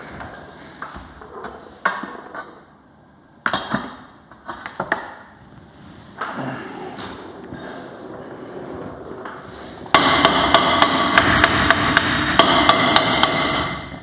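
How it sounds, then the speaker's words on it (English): Sharp metallic hammer strikes ring out while working on a 1966 truck's brakes and suspension, scattered at first, then a rapid steady run of loud blows near the end, with clanking between. "Hammer!"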